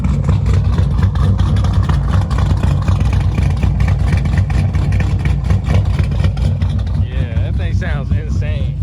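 A modified Dodge R/T V8 with an aggressive cam idles and revs up close and loud, its choppy, lumpy rumble running steadily throughout.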